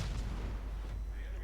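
Warship guns fire shells in a naval video game, a muffled, rumbling low boom that rolls on steadily at moderate distance without sharp separate blasts.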